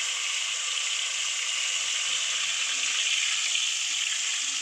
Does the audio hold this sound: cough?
no